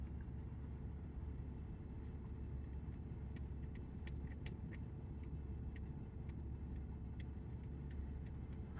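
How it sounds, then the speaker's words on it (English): A tow truck drives past as a low, steady engine rumble and road noise, holding fairly even and moderately distant throughout, with faint higher clicks scattered over it and no speech. "Does that tow truck think I'm needing a tow?"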